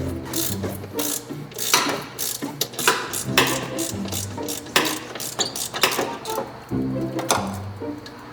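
Repeated ratcheting clicks from a hand tool backing out the last screw on the exhaust of a Mercedes SLR McLaren supercar, in quick bursts with short pauses, close and fairly loud, no talking.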